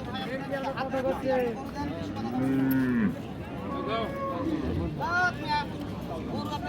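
A Friesian cow with her calf lowing at Raniganj cattle market in Dinajpur: several drawn-out moos, near and fairly loud, one long and sinking, over a busy crowd murmur and people talking.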